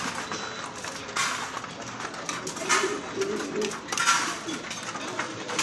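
Pigeons cooing close by in a loft, soft repeated low coos under a constant hiss of background noise.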